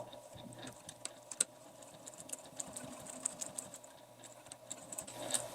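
Quiet sewing machine stitches a clear vinyl pouch, giving soft, rapid ticking needle strokes with a faint motor hum and small clicks throughout, fairly distant and low in level.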